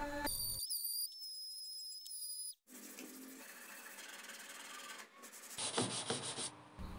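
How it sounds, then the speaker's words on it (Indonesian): A power sander whirs and rasps against the wood of a TV cabinet in loud bursts, broken by a brief pause and high whining tones. "Lalu saya amplas menggunakan sander sebelum saya finishing."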